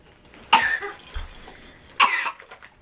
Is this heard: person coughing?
yes